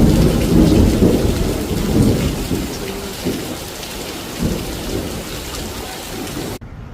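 Heavy rain pours steadily near Satyanarayana Swamy temple hill at Annavaram, with deep rumbles of thunder rolling through the downpour, loudest at first and easing slightly before cutting off abruptly near the end.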